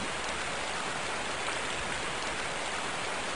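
Heavy rain with wind outdoors, a dense, even hiss of falling water hitting surfaces, steady and fairly close throughout with no talking.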